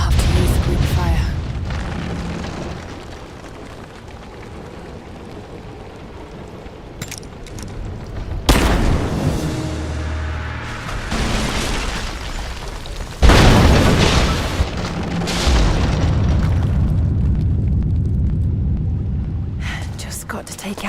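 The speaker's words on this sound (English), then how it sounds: "Looks like I'll have to use Greek fire." Greek fire blasts go off in Rise of the Tomb Raider, knocking out a statue's supports: two or three heavy booming bursts with crackling debris, separated by quieter rumbling stretches, with a voice speaking at times.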